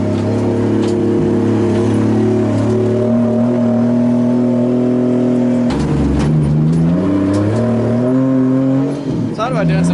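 A 2JZ-swapped Nissan 240sx drift car idles and revs loudly and close by, its engine note steady then rising and falling, with a brief tire squeal near the end.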